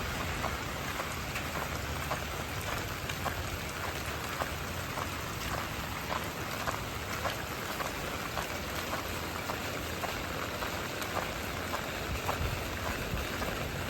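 Steady rain pours at night over a city street in Banda Aceh, a constant hiss of drops striking surfaces with occasional louder patters, moderately close and without any talking.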